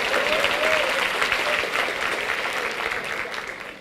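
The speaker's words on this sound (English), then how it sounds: "Let's give him a round of applause." Steady applause from an audience at an event honoring a man, a dense wash of many hands clapping at even loudness, with a faint voice briefly audible early on.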